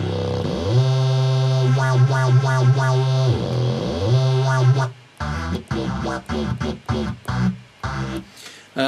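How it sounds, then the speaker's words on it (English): Korg Kaossilator Pro synth playing a saw bass patch: buzzy sliding bass notes at first, then choppy stabbing notes with tremolo at the top, loud and alone. "a standard saw bass sort of sound"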